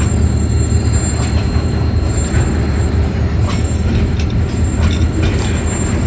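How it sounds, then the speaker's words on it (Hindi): A long freight train rolls steadily through a semi-abandoned railway station at Renala Khurd, a continuous loud rumble of wheels and wagons with faint squeals and clanks, heard close and alone with no talk. "फ्रेट ट्रेन का मसला ये है यार कि ये ख़त्म ही नहीं होती"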